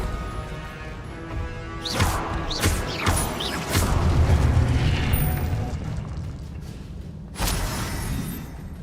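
A Confringo blast spell goes off in the video game Hogwarts Legacy, a loud whooshing burst followed by rumbling booms and crashing debris, with a further blast near the end.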